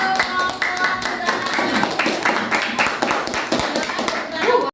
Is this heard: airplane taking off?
no